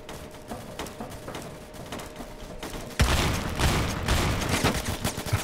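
Shotgun fire in the Roblox game Phantom Forces: a muffled crack starts a burst of loud, dense gunfire and rattling noise that carries to the end, with no talking.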